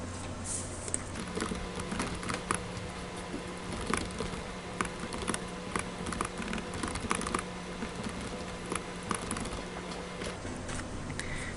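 Computer keyboard typing runs steadily throughout, a rapid patter of light clicks close by over a low steady hum, with no voices.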